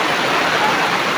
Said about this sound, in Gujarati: સવારે વહેલા જોરદાર વરસાદ ચાલુ થઈ ગયો છે.